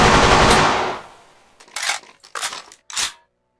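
Carbine firing in short separate bursts: three or four sharp reports after a louder, denser burst of noise at the start, close and clear, with no voices.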